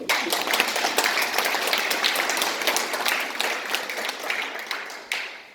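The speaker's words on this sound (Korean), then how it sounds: "박수 한번 쳐주십시오." Audience applause at a forum event, a dense, sustained crowd clapping that holds steady throughout and tapers slightly near the end.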